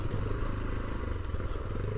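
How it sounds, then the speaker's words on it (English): A motorcycle engine chugs uphill in second gear on a rough, steep mountain loop road near Medellín, Colombia, a close, steady, low rumble with loose clattering throughout. "But this bike is just chugging up in second, occasionally in the first when we've got a rough bit with a steep corner"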